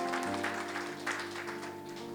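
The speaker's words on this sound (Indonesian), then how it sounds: "Tepuk tangan buat Yesus." Church congregation clapping during a sermon, a dense, fairly faint wash of applause lasting a couple of seconds, heard from a distance in a reverberant hall.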